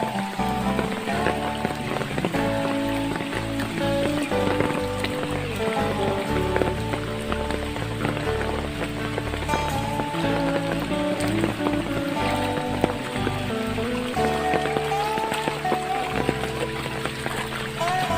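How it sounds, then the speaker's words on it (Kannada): Heavy rain falls outdoors beside a flooded stream, a loud, dense and continuous patter that fills the whole scene, with people talking and music-like tones over it. "ಅಲ್ಲೋ ತುಂಬಾ ಮಳೆ ಬರ್ತಾ ಇದೆ"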